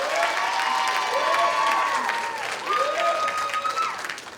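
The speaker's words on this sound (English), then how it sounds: "So let's give another round of applause for Chris for the first one up here on stage" Audience applause at a school band chamber ensemble concert rises and holds, with sustained tonal ringing or feedback-like tones sliding above the clapping throughout.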